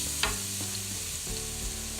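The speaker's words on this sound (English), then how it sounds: "My oil is warm. I'm adding in a couple teaspoons of garlic." Couple teaspoons of garlic sizzling in warm oil in a pan for shrimp linguine, a steady close frying hiss with a few soft stirring scrapes and no talking.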